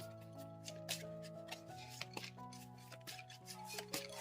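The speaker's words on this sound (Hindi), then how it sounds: "तो शुरुआत करते हैं कार्ड शफल" Oracle and tarot cards are shuffled close by, giving quiet, irregular papery flicks and soft taps with brief snaps, set against a faint steady background tone.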